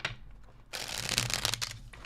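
Tarot cards shuffled by hand, a quiet pause giving way at about the midpoint to a steady, close, papery riffling and flicking that continues to the end.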